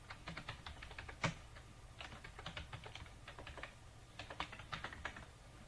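Someone types on a computer keyboard, close and quiet, in several short bursts of quick clicking keystrokes with brief pauses between them and no speech.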